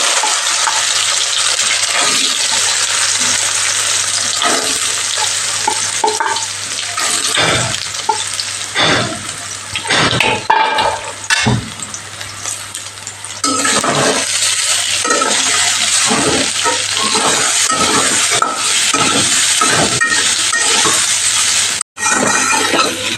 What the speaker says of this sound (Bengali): তেল গরম হয়ে গেছে এবার সয়াবিনগুলোকে ভেজে